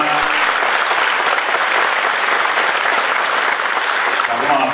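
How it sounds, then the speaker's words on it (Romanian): At an awards gala for laureates in Sebeș, Romania, a hall audience fills the room with loud, continuous applause, a steady wash of clapping with no pauses. "Vă rog să-i aplaudați."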